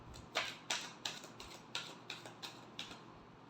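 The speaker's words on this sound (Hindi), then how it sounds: "Last shuffle." Tarot cards being shuffled, a quick regular series of about nine crisp flicking taps, close and fairly quiet, with no talk.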